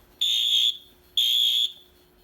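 A fire alarm panel sounding after its test button is pressed, two loud, shrill electronic beeps of equal length separated by a short pause, clear and alone.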